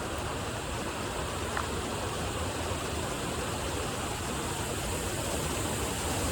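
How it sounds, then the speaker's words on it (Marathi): Kanchan Waterfall in the Sahyadri hills near Junnar, a steady, dense roar of water pouring down, broad and unbroken throughout, heard close with no voices. "धबधब्याचं पाणी ज्या बाजूला खाली वाहत जात आहे"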